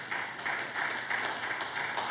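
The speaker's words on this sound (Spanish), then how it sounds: "Dele una ofrenda de palmas al Dios de la gloria." A church congregation applauds as an offering to God, a steady wash of many hands clapping together at moderate loudness, rising in slight waves with no voices over it.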